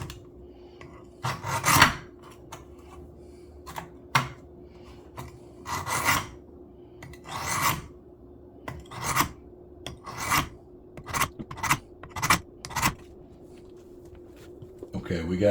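A dull pocket knife is sharpened on a whetstone, with repeated rasping strokes of the blade across the stone in an uneven rhythm, close and clear over a low hum.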